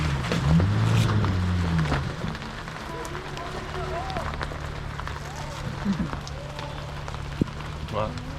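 Rain falling steadily on a rainforest campsite beside a lake and waterfall during an overland jeep trip, a constant close patter with scattered drops on surfaces, under occasional talk and a brief engine-like hum at the start.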